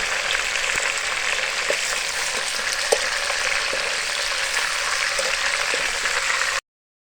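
Chicken fries in a pan, a dense continuous sizzle and crackle with occasional small pops, loud and close, then a sudden cut to silence.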